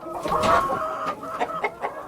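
Hens on a poultry farm cluck in a busy, overlapping chorus, loud and close, with short sharp calls repeating through the moment.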